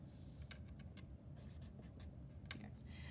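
A pen scratches steadily on paper while a maths formula is written out, a close, quiet run of short strokes and taps with no talking.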